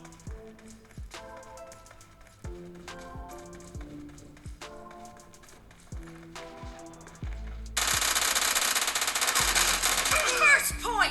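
Gunfire in a PUBG Mobile team match on a phone, single sharp shots spaced apart, then a loud sustained burst of rapid automatic fire with overlapping game effects, no talking.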